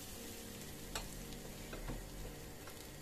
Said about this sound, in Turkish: Şimdi tekrar salçalarımın da kokusu çıkana kadar kavuracağım.